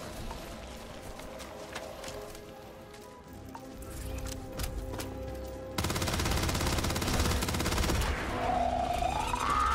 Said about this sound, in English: Dip there in when I was shooting a little bit into the 60s